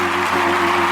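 An adoring crowd claps in a steady, dense, loud wash of applause that runs unbroken for the whole moment.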